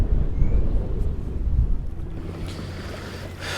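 Strong wind buffets the microphone out on the open water near Galveston, a loud low rumbling gust that eases slightly toward the end, with faint water movement around a boat.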